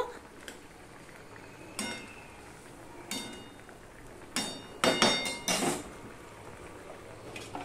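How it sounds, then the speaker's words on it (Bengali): Brinjal pieces are turned in a cooking pan, giving several separate sharp metallic clinks and scrapes of a utensil against the pan over a faint background, with no talking. "এবার বেগুনগুলো আমি একটুখানি এপিট ওপিট করে দেব"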